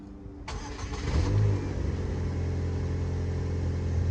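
A worn-out Chevrolet Cavalier in rough condition is cranked by its starter, catches after about a second and settles into a steady, close, rumbling idle.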